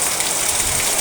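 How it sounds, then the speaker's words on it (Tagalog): Heavy rain pours down in a dense, even hiss of drops that holds steady and loud for the whole second. "Hindi ba malakas ang ulan?"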